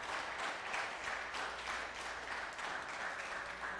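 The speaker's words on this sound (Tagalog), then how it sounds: "Tuloy natin yung palakpak sa Panginoon." A church congregation clapping steadily together, a dense sustained wash of hand claps with a gently pulsing rhythm, moderately loud and without any talking over it.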